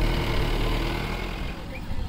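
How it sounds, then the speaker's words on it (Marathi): Wedding car carrying the bride pulls away, its engine a low steady rumble that fades slightly, with voices talking in the background. "तर फायनली नवरीची गाडी गेली पुढं"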